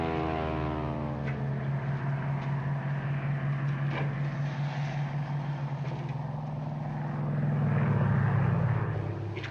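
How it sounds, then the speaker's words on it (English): Propeller airplanes drone overhead in a wartime drama, a steady, heavy engine hum filling the whole stretch and swelling louder toward the end as one passes close; no one speaks. "It's the planes again."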